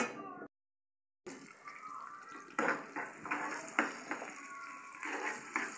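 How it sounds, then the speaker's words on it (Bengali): Onions fry in a pan for a mixed vegetable bhaji, a close sizzle with repeated stirring scrapes and light clatter of utensil against metal after a brief silent gap. "এখন আমি পেঁয়াজ দিয়ে দিতেছি, পেঁয়াজ দিয়ে দিয়েছি"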